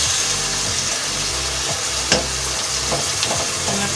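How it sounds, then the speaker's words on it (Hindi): Chicken tikka masala with onions sizzles loudly in a pan over high heat while a spoon stirs and scrapes through it, with intermittent knocks against the pan. "तकरीबन 5 मिनट इस तरह से तेज़ आंच पे रख के इसी तरह से बुनाई कर लें।"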